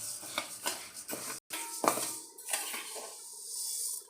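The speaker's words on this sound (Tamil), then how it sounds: "இது நல்ல கோல்டு கலருக்கு ரோஸ்ட் ஆகணும் கருகாமல் சிம்மில் வச்சே நல்லா சவக்க வறுக்கணும்" Green gram being dry-roasted and stirred in a pan for payaru laddu, heard as a close run of scraping and clinking of a spoon against metal, in uneven strokes with brief pauses, no talking.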